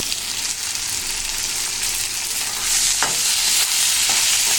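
Green chillies being stir-fried in a pan of hot oil with cumin seeds, a loud continuous sizzle with occasional scraping strokes of the spatula, close and steady throughout.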